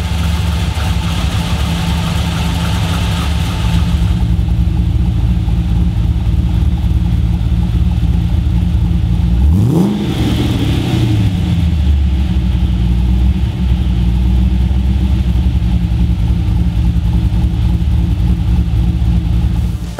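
An LS V8 fitted with a VCM 15 camshaft, suited to a supercharged setup with a standard stall converter, idles with a loud lumpy note, then blips up sharply once before settling back to a rough idle.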